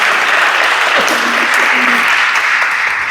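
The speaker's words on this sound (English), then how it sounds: "We give them a massive round of applause" An audience claps together at a church community careers panel, dense and loud and sustained throughout, with a faint voice briefly audible underneath.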